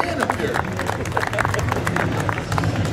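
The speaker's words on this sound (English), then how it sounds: "Give yourselves a big round of applause." Audience applause at the BPM UK 2013 event, a steady crowd clapping with background chatter and speech mixed in throughout.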